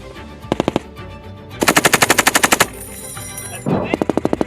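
Machine guns fire in rapid bursts during outdoor Marine live-fire range training at Camp Fuji, three loud, sharp rattling volleys, the middle one longest, with echoing reports across open terrain.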